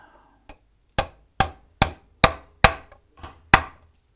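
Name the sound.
hammering Silver Sky brass tremolo block part into place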